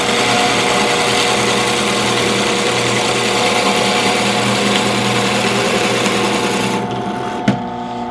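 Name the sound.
power saw cutting wood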